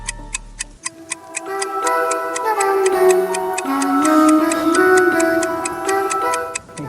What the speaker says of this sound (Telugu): బయటపడే వర్షం కన్నా ఈ గడియారం సౌండ్ కొంచెం భయంకరంగా ఉంది.